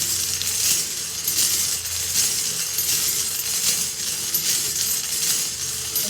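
Numbered balls rattle and clatter continuously inside a spinning drawing wheel, a loud, busy jangle that carries on without pause.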